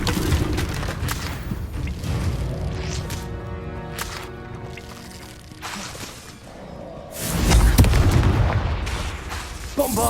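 Bombarda blasting-spell explosions in Hogwarts Legacy, a series of heavy booms and bursts with one deep, loud blast late on, layered over continuous game noise.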